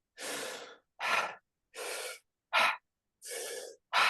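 Deep, forceful breathwork breaths drawing in a lot of air, six strong breath sounds in a steady alternating rhythm, close and clear with silent gaps between, no talking.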